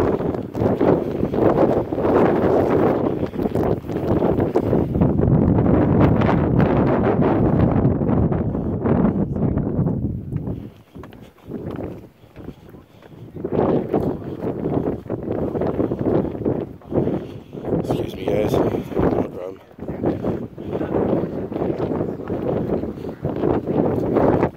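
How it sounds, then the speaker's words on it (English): Strong gusting wind roars and buffets the microphone at Meteor Crater, Arizona, easing briefly in the middle before surging back, loud and constant outdoors. "This is a very cool place despite how windy it is today."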